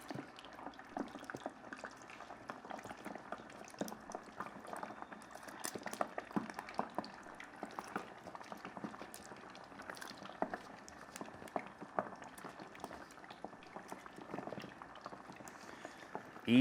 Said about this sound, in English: So we're gonna fry these wings for 10 minutes